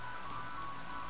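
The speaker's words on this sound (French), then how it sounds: "Mais il pleut vraiment beaucoup ici." Heavy rain pours down steadily in a dense, unbroken wash of noise that stays even and close throughout, with no voices.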